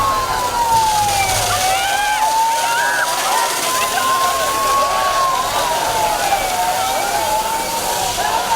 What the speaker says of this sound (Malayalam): വരുണിന്റെ മുകൾ ഭാഗത്തു നിന്നുവരെ വെള്ളം ചീറ്റാൻ തുടങ്ങി.